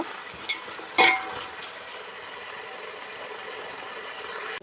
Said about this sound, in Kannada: ಗೋಲ್ಡನ್ ಬ್ರೌನ್ ಬರೋ ತನಕ ಆನಿಯನ್ನ ಫ್ರೈ ಮಾಡ್ಕೊಳ್ಳೋಣ